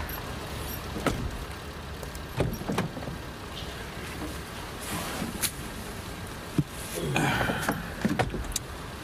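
People climb into a car: sharp door thumps and handling clatter are spaced apart over a low idling engine, close by and fairly quiet, with a final heavy slam.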